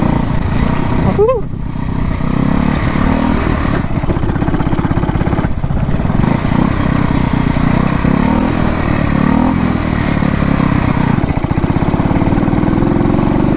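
A 1968 Harley-Davidson motorcycle engine runs steadily and loud while riding on sand in second gear, a close, continuous low rumble with small rises in revs throughout.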